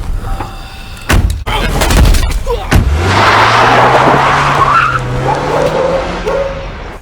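A car in the Saints Row 2 video game starts up and drives off with a rising engine drone, preceded by sharp door thumps and mechanical clunks, fairly loud and continuous.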